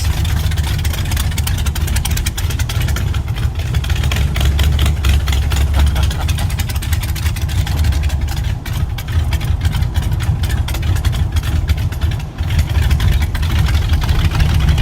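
A twin-engine VW Type 3 Squareback gasser rumbles loud and close at a steady idle, a dense low throb with rapid mechanical pulsing that holds unbroken, with no talking.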